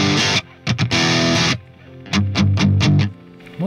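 Heavily distorted single-coil electric guitar chords through a Rectifier amp ring out loud, some sustained and others in short choppy stabs, with brief pauses between phrases.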